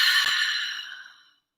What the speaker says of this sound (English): This time, exhale out your mouth